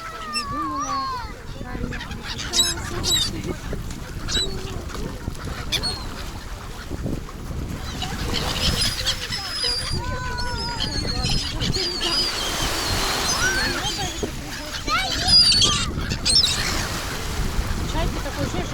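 Gulls call in scattered bursts along the Black Sea shore on a February day, with surf and wind noise throughout and people talking nearby over the birds.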